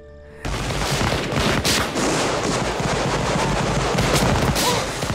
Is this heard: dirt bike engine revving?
no